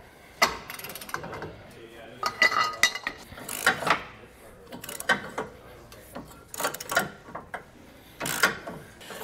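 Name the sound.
breaker bar and socket loosening trailer hitch bolts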